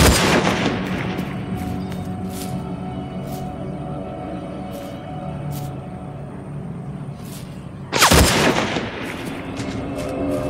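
Gunfire in the first-person shooter game Hunted: a loud shot opens the stretch, followed by a steady low battle rumble with scattered sharp cracks, and a second heavy blast near the end.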